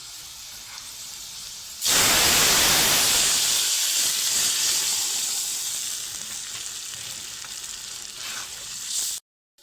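A loud, sharp sizzle bursts out as moong dal and papaya hit hot oil with fried onions, then settles into a steady, hissing fry that slowly softens before cutting off.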